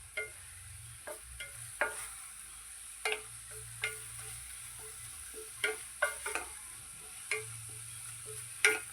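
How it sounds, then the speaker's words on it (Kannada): Dill leaves fry in a pan for sabbasige palya with a low steady sizzle, broken by a series of crisp spatula scrapes and taps at irregular intervals, close and clear, with no voices. "ಒಂದು 2 ನಿಮಿಷವರೆಗೂ ಮಾತ್ರ ಇದನ್ನು ಫ್ರೈ ಮಾಡ್ಕೋಬೇಕು."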